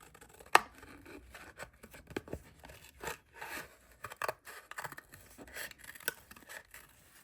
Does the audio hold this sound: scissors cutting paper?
yes